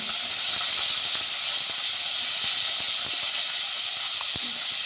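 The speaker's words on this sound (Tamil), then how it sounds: "இப்போ சின்ன வெங்காயத்தை போடணும்" Shallots and garlic sizzling in hot oil with mustard seeds, a loud, steady broadband hiss filling the whole stretch, dotted with small pops and crackles close by, with no talk.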